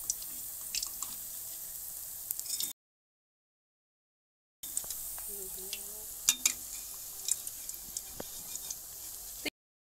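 Besan pakoras sizzle and crackle in hot oil as they are turned over, with a steady frying hiss, scattered pops and a brief silent gap partway through.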